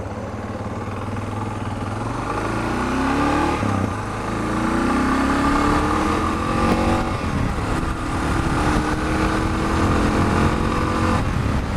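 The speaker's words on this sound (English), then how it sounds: "Bike runs like a new one." A Suzuki DR650 motorcycle fitted with a GSXR exhaust pipe runs at a steady, loud engine drone, with rising revs as it accelerates through the gears, heard close and continuous throughout.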